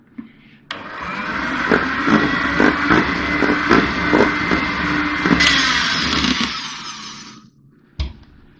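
An electric hand mixer beats sponge cake batter with oil and milk added, a loud whirring motor with rhythmic pulsing knocks against the bowl, ending with a sharp clack after it stops.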